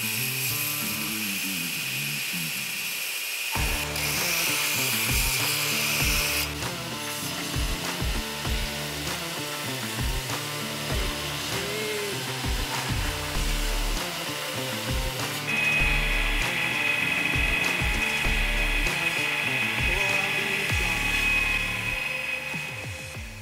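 A forged steel ABS journeyman test knife is ground flat on a platen sander, producing a loud, steady belt roar with harsh high-pitched grinding that rises and shifts as the blade is pressed and repositioned throughout.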